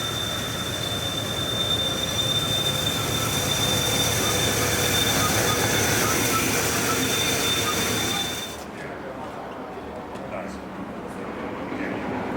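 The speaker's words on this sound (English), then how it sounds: "This locomotive comes all the way from Eltham, Victoria" A 7.25-inch gauge model diesel streamliner locomotive rumbles along the rails with a steady roar and a high whine, then the noise drops off abruptly, leaving quieter ambience with voices.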